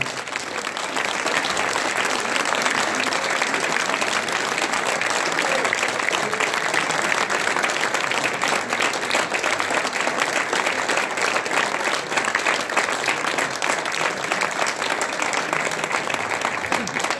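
Long, sustained applause from a concert audience honoring a brass band at a music festival opening concert; dense, steady clapping fills the hall at an even level throughout.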